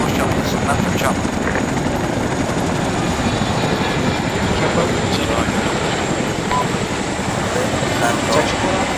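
Military helicopter engine and rotor thrum in a video game battle scene, a loud steady chopping drone filling the whole clip, with radio chatter over it.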